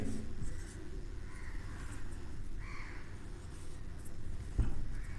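Writing on a board during a geography lesson on ocean currents: soft, scratchy strokes in short bursts, faint over a low room hum, with no talking.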